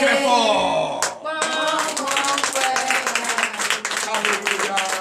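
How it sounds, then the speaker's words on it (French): A church congregation in Benin claps loudly during a Sunday service, brisk rhythmic clapping following a brief voice, with tonal music or singing running underneath. "je vous demande encore d'applaudir très fort"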